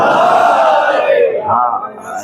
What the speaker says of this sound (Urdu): کل سے زیادہ نعرے لگ گئے ہیں